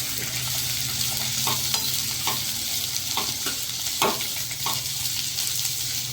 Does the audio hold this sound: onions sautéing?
yes